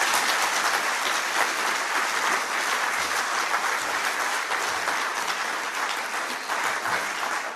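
Sustained audience applause fills a lecture hall as a Nobel laureate professor is welcomed to open a festival of ideas on climate change, a dense, steady wash of clapping from start to finish with no voices over it.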